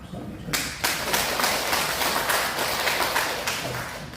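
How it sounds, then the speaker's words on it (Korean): A church congregation applauds the choir during a Sunday worship service: a dense, steady wash of many hands clapping that starts abruptly and holds at an even level for several seconds. "박수 한번 쳐주세요."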